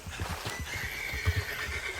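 Horse in the video game Red Dead Redemption 2 gives a short, close neigh over soft clip-clopping hooves, loud and clear with no talking.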